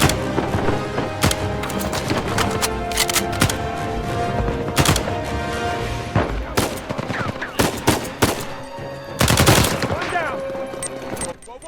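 Sustained bursts of automatic gunfire and single shots from an Uncharted 4 firefight, laying down suppressive fire at snipers, dense and rapid with loud impacts, while a voice talks over much of it.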